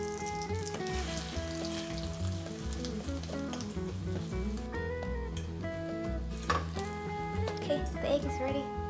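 Egg for a crispy golden-brown Thai omelette, Kai Jiao Chaom, frying in a pan, a soft steady sizzle under background music.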